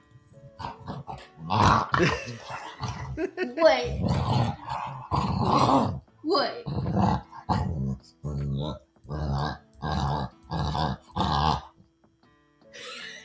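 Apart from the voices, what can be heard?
dog growling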